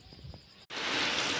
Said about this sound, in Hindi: बहुत बारिश दे रहा है अभी